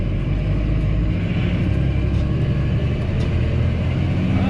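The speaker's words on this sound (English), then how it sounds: "I think it's a 6-speed Cummins in it, probably 24 valve" A truck with a six-speed Cummins diesel, probably 24-valve, idles with a loud, steady low rumble nearby on a parking lot job site.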